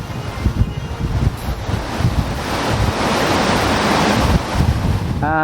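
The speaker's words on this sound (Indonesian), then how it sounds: "Teluk Jakarta nih, ombaknya bulan Maret awal." Sea waves roll and wash in Jakarta Bay off Onrust Island, a loud, continuous surf roar mixed with gusty wind buffeting the microphone.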